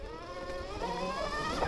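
The motor of a Goat Power Dirt Goat 96v v2 electric bike gives off a close, steady whine with layered tones that rise slightly in pitch toward the end of the brief clip.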